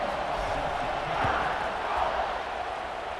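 A dense stadium crowd roars at kickoff in the football video game College Football 26, a broad, steady wash of cheering that swells slightly midway.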